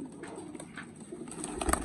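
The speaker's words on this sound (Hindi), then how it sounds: "ये देख लें भाईजान, ये माशाल्लाह आपके कबूतर हैं" Pigeons cooing close by in a loft or cage, soft repeated low coos with a slight rustle, brief and steady, no people talking.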